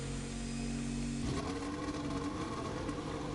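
A Typhoon Racing car engine in the video game F1 2020 drones steadily, then shifts pitch about a second in and keeps roaring with a buzzy, synthetic edge, close and continuous.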